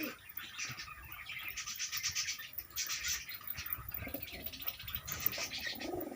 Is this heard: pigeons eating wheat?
yes